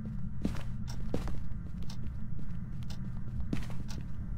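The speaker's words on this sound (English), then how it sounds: "I heard like a footstep that was loud" A loud footstep thuds in the Phasmophobia ghost-hunting game, with a few heavy steps standing out over a steady, noisy game ambience.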